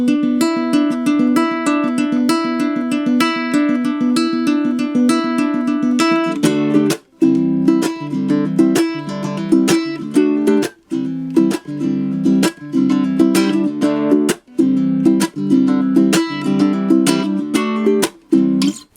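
A ukulele with wound strings strummed steadily in a chordal pattern, bright and slightly harsh, continuous and fairly loud with no voice over it.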